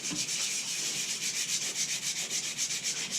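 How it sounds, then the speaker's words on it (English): A steel D20 die is sanded by hand with 80 grit sandpaper, giving a steady, close, rhythmic rasping scrub of short repeated strokes with no pauses. "and just kind of lightly sand over every surface"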